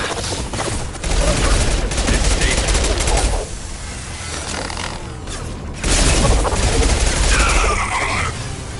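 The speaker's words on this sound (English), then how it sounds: "Taking heavy fire." Heavy, nonstop automatic gunfire in the sci-fi game Mass Effect Legendary Edition, loud and close in two long intense waves with a brief lull between, with scattered impacts and clatter.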